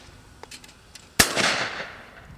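A Promatic Super Hawk clay trap fires a clay with one sharp, loud crack, followed by a whooshing release that fades over about a second. A few faint clicks come just before it.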